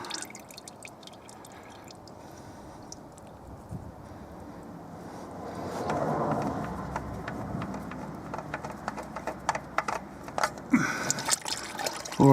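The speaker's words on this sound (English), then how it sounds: "Let's leave it dripping for a minute before I take it off." Old engine oil dripping and trickling from the drain of a Hyundai 1-litre petrol engine during an oil change, a faint irregular pattering that grows into a steadier splashing flow with scattered clicks and knocks.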